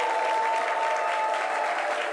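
A studio audience claps steadily and loudly to welcome a guest onto a talk show, a dense, even wash of applause with no voices over it.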